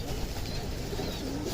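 Homing pigeons coo softly at close range over a steady, dense background hiss, with no voices present.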